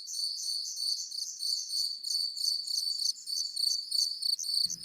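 A cricket chirps in rapid, evenly repeated trills, clear and close against near silence, with a brief low thump at the very end.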